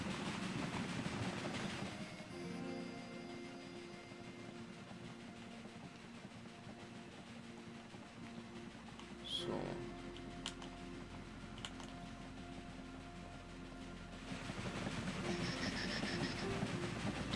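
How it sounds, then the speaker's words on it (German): A steam train rolls along in the railway strategy game Railway Empire 2, a steady mid-level rumble and clatter lasting throughout, with a few brief sharp clicks partway through and the sound swelling toward the end. "Da saust unser erster Zug entlang."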